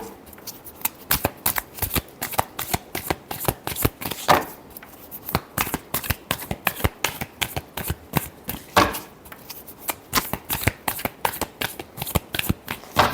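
Tarot cards being shuffled by hand, a fast rhythmic riffle of crisp snaps repeating steadily and close up throughout, with almost no talking.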